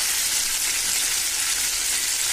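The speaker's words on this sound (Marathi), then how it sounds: "आता थोडा अजून ह्या साईडने 5 मिनिटं फ्राय झाले ना तर आपण व्यवस्थित सगळ्या साईडने पूर्णपणे फ्राय करून घेऊया" Green chicken kabab (hariyali kabab) frying in a pan, a continuous close, even sizzle of hot oil with no pauses and no voices.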